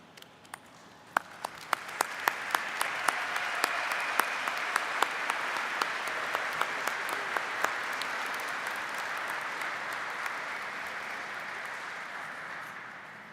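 A commencement audience for the SUNY Poly College of Nanoscale Science and Engineering bursts into sustained applause, with a few distinct nearby claps standing out over the broad wash of clapping.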